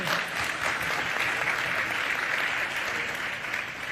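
A school event audience gives a steady round of applause, dense even clapping that holds at the same volume throughout, with no voices over it.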